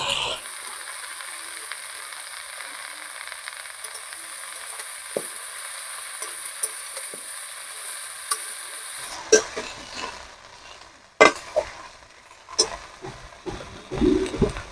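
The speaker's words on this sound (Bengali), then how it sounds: "এবারে দিয়ে দেব কেটে রাখা কুমড়ো শাক আলু আর বেগুন" Pumpkin greens, potato and eggplant frying in a pan, a steady close sizzle for most of the stretch, then louder clatter and stirring bursts toward the end.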